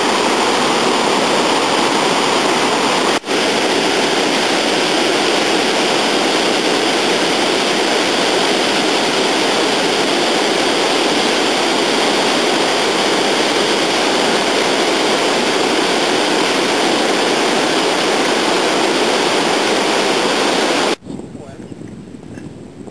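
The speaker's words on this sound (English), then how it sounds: "The rivers are really full at the moment because of the meltwater." Meltwater-swollen rivers in Sequoia National Park, California, roar in a loud, unbroken rush of water close by, filling the air for about twenty seconds before dropping off abruptly near the end.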